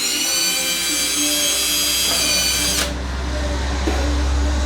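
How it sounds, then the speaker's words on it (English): A power drill with a 1/8 inch bit whines steadily at high speed, its pitch dipping briefly twice as it bites in pre-drilling screw holes, close and loud. "Pre-drill with an 1/8 inch"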